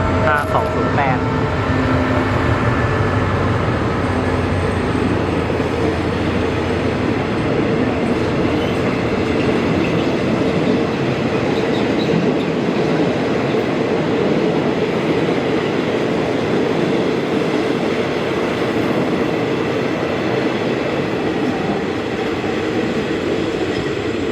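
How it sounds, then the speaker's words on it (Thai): A passenger train hauled by a QSY diesel locomotive, number 5208, rolls slowly through Chiang Rak station in Thailand, its steady loud rumble and wheel noise filling the scene continuously and close by, with faint voices underneath. "รถจักรทำขบวนนะครับ เป็น QSY หมายเลข 5208 ครับ อ่า กำลังเคลื่อนตัวนะครับ ผ่านสถานีเชียงรากนะครับ"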